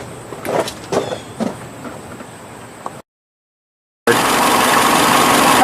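A 2011 Nissan Altima with a CVT sits parked at idle after a transmission fluid drain and refill. A few light clanks come first, then a brief dropout, then a close, steady engine drone.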